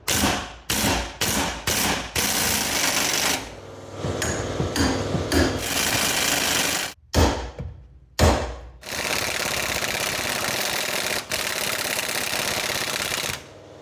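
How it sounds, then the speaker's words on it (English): Impact wrench hammering off a 17 mm nut on a sway bar link of a 2008 Infiniti FX35, loud and close, with several short rattling bursts and then long sustained runs, broken by brief pauses. "I'm using my impact to get this off"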